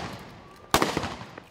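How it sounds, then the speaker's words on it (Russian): A single sharp burst of gunfire rings out at a special forces demonstration exercise held alongside an armoured vehicle, one loud report that decays over about half a second against a quiet outdoor background. "Сотрудники спецназа ведут шквальный огонь и поочередно скатываются под проезжающую бронемашину"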